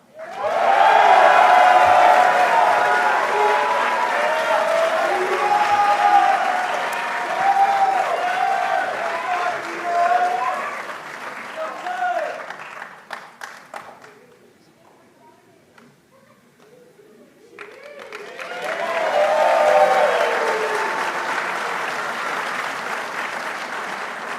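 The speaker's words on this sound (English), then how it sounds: "let's give them a big round of applause" Applause and cheering from a crowd at a recruit class graduation, loud and steady before fading to near silence midway, then swelling back as clapping resumes.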